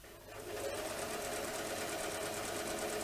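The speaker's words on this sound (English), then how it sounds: "I've got my walking foot on and a stitch length of 3 because it's thick material" A sewing machine fitted with a walking foot runs steadily through thick fleece at a stitch length of 3, a quiet, even rhythmic whir of rapid stitching with no pauses.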